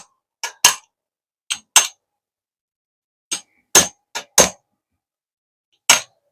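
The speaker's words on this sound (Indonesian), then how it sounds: "kita ketok ke kiri sobat" Sharp metal taps against a loosened screw on a Panasonic F-EK306 electric fan during a bearing replacement, struck in short uneven bursts of one or two clanks, eight in all, close and alone with silence between.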